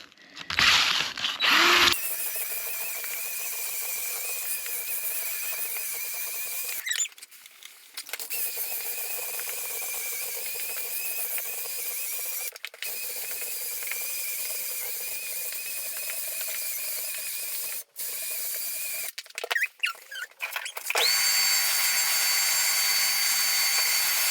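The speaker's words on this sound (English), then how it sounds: "now I'm just coming back over with the 500 grit." A floor grinder polishing a concrete floor with 500 grit pads in an old stone farmhouse, giving a steady high-pitched whine with a few brief cut-outs and restarts, close and continuous, with no talking.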